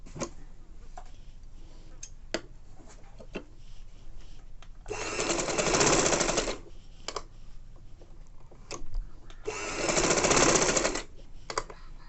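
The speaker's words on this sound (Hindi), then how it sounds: "सिलाई सिर्फ हमें इस हिस्से पे लगानी है" An electric sewing machine stitches fabric for a little girl's top in two bursts of whirring, each lasting about two seconds, with quieter handling clicks and rustles between them and no talking.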